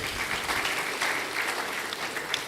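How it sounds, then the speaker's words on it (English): Audience applause at a panel event on climate and environmental resilience in extractive communities, steady clapping from a room full of people lasting a few seconds without talk. "Please, a round of applause."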